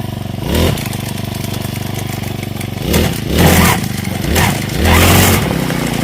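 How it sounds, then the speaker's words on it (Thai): A small brush cutter engine idles, then revs up in several short bursts, each whining higher before dropping back, loud and close. "กำเร่งดูนะครับ"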